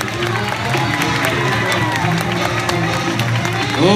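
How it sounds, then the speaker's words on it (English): A circus audience applauds and cheers for a volunteer, steady crowd clapping mixed with shouts and excited voices, fairly near and sustained. "Let's have a great big round of applause for our great volunteer,"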